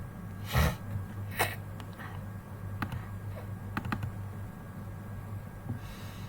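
Computer keyboard typing in an Excel session, a few sharp key presses including an Enter press, quiet and sparse with soft background noise.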